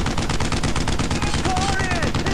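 Machine gun fire in the World War II shooter Brothers in Arms: Road to Hill 30, a loud, dense rapid burst of gunshots lasting the whole moment, with overlapping shots from several weapons.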